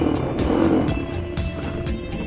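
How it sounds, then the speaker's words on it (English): Dirt motorcycle engine revving hard in bursts as its rear wheel spins in loose sand, the throttle rising and dropping several times in a loud, close, steady roar. "The trick of the sand is keep your throttle, keep the wheels spinning"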